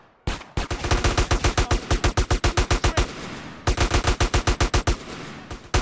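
Rapid automatic gunfire erupts in a Grove Street gang war in GTA San Andreas, loud close bursts of evenly spaced shots in two long strings separated by a brief pause, with no talking.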